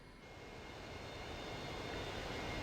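An MB-339 jet engine runs during a cold start, a steady, broad roar with a faint high whine that slowly builds in loudness, with no voices over it.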